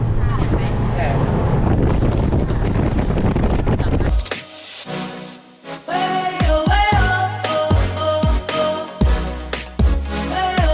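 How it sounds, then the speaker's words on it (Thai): Strong wind buffets a microphone on a Thai island, a loud continuous rush that fills the first four seconds, then breaks into gusty bursts behind a brief musical passage. "ตอนนี้ทุกคนได้ยินเสียงลมไหม"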